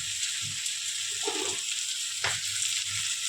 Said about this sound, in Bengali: কাঁচা লঙ্কা পেঁয়াজ আর ক্যাপসিকাম দিয়ে এটা ভাজছে মা এখন